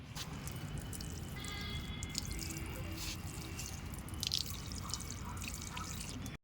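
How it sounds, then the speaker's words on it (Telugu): Water trickling and dripping steadily onto soil in a rooftop garden tub sown with bean seeds, soft splashes over a constant background hiss. "ఇప్పుడు వాటర్ పోసుకున్నాం"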